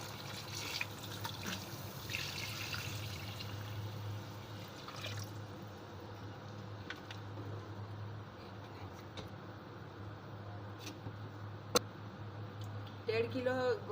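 Water is poured into a pot of nihari whose spice masala has been fried, 1.5 litres of water for 1.5 kilos of meat, giving a steady, fairly quiet liquid rush over a low hum, with faint clinks near the end.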